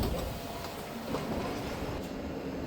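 A commuter train on the run from Cheongnyangni pulls into Yongmun, its terminal station, with a steady low rumble of wheels and carriage noise filling the space throughout.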